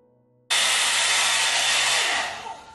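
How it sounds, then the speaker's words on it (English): A round blow dryer brush on its cool setting switches on after a brief quiet moment, then blows a loud, steady, close rushing whoosh that eases slightly near the end. "dry the hair without using heat, because it minimizes heat damage being that it's a cool setting"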